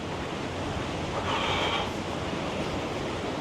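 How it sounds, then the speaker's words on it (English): Steady broadband wind roar buffets the microphone at the Waverton Coal Loader, swelling slightly in the middle, with no voices. "it's starting to get a bit windy"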